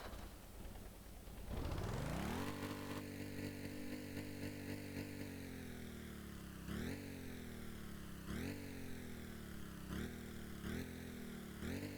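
A video game vehicle's engine cranks and catches, then settles into a steady loud drone with several sharp rises in pitch as it is revved, heard alone without talk.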